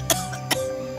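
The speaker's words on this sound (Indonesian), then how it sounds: "Wanita tua itu terbatuk-batuk parah" Two sharp coughs from an old woman, a close sound effect in a narrated story, spaced about half a second apart over a steady low hum.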